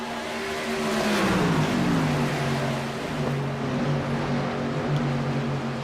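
Race cars in a sim racing game lap Kansas, a close, steady engine drone with pitch sweeping down then holding as cars pass, the roar continuous and loud throughout.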